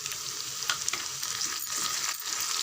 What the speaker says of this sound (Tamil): உருளைக்கிழங்கு குடமிளகாலாம் நல்லா சிவந்து வரட்டும். ஒரு 2 நிமிஷம் நல்லா வதக்குங்க.